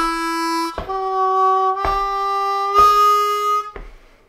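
Harmonica playing a short sequence of four sustained notes: a 2-draw, a 3-draw bent down a whole step, a 3-draw bent a half step, then a plain 3-draw, each note separated by a brief breathy break, close and clear.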